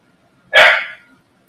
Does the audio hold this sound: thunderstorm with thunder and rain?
no